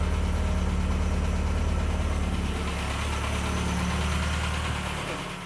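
A Classic Mini's engine idles with a newly fitted lightweight racing alternator spinning, a loud, steady, close rumble that holds even before easing slightly at the end, with no voices.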